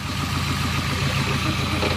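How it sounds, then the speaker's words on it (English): A car engine with a blown motor idles close by, a steady low rumble carrying a rhythmic knocking from a rod knock, running loud and unbroken with no voices. "Last time I checked, that's what rod knock sounds like."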